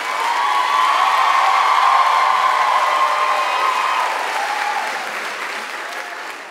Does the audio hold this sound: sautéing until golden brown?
no